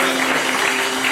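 A church congregation acclaims the Lord during a sermon, producing a brief, dense wash of clapping and cheering that holds steady over a sustained hum.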